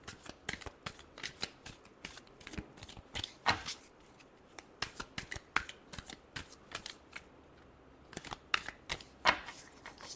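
Tarot cards are shuffled by hand close up, with a series of quick, crisp riffling bursts and soft slaps separated by short pauses, quiet and alone.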